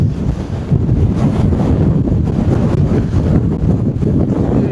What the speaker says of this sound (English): Absolute brutal winds.